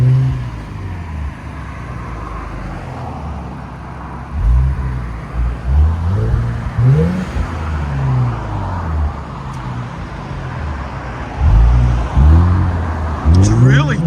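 A 2021 Infiniti Q60 Red Sport 400 with an ARK cat-back exhaust gives several deep, throaty revs and blips over a low idle, heard close by with someone talking over parts of it.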